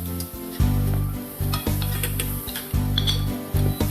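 Seafood fried rice with shrimp, squid and egg tossed and stirred in a hot pan, with repeated scraping and sizzling bursts and light clinks of utensil on metal, fairly close and steady throughout.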